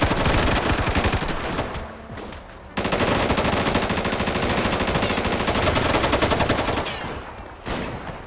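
Rapid automatic gunfire in GTA V roleplay, dense bursts of shots that pause briefly around the middle and then resume in sustained volleys.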